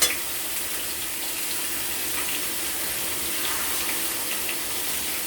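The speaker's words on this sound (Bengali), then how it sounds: "জল দিয়ে দিলাম।" Water poured into a pan of sizzling fish-head pumpkin and potato curry masala gives a steady, even hiss and bubbling after a small splash at the start.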